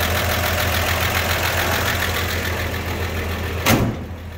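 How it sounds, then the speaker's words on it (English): A 1951 Chevrolet tin woody wagon's inline six-cylinder engine idles steadily nearby, a low continuous rumble with a brief louder thump near the end. "Got the inline six cylinder engine."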